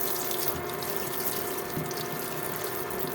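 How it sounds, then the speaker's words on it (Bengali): Cold tap water runs in a steady, close stream as boiled noodles are rinsed, a continuous even gush with no talking. "এবার ঠান্ডা পানি দিয়ে ভালোভাবে ধুয়ে দিব"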